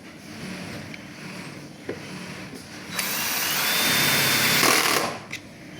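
A power drill drives coarse self-tapping screws into a Juki PLC 2710 sewing machine table, whirring up briefly, then rising into a louder sustained grinding run with clicks around it.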